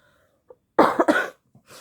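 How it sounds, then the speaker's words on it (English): A couple of quick, harsh coughs close to the microphone, followed by a faint breath, with silence around them. "Excuse my coughing"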